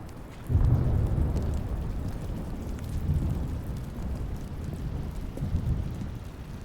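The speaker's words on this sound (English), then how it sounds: "It's getting a little rainy." Steady rain in The Stanley Parable video game, a dense continuous downpour with deep rumbling underneath, fairly loud and unbroken throughout.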